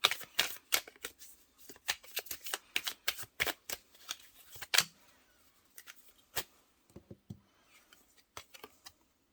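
Tarot cards are shuffled and drawn close up: quick bursts of crisp riffling and snapping card flicks, followed by sparser, quieter single card slides and taps in a quiet room.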